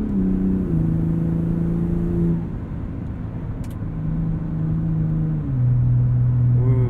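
Engine of a 2021 Ford F-150 Raptor 4x4 SuperCrew pickup pulling through a held gear, a steady close low rumble with tones stepping between pitches as the truck accelerates, no talk.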